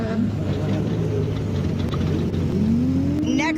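An off-road race vehicle sits at the start line of a NORRA 500 desert race near Ensenada, its engine droning loudly and steadily, then revving up in pitch toward the end as it takes the green flag, with faint voices in the background.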